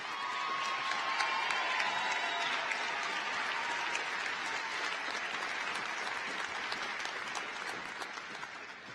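Dense applause from the audience at a 2016 high school graduation ceremony, a steady, fairly distant wash of many hands clapping that lasts about nine seconds and fades slightly toward the end.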